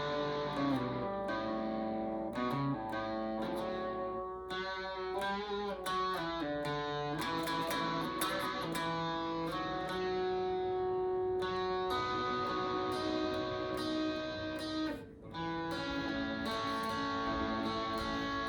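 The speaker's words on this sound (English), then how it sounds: "I'm just playing the bass note. And especially with distortion, it has this nice, cool blues sound to it." An electric guitar plays bass notes with heavy distortion in a blues style, a continuous thick droning tone with shifting notes and one brief dip near the end.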